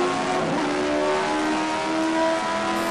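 Several race cars accelerate together off a green-flag start on a three-lane track, a loud layered engine drone with pitch rising and shifting as the pack speeds up, heard close from inside a car without any talk.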